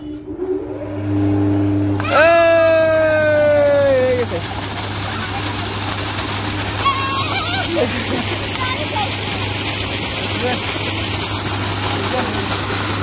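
A water pump machine runs steadily in a village setting while water splashes and sloshes out, with a voice calling out briefly at the start over the constant engine hum.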